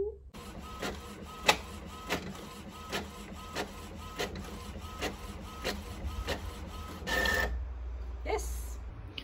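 Printer running through a print job in a studio, a steady mechanical whir with regular clicking pulses roughly every half second, then the motor stopping abruptly near the end and a brief shuffle afterward.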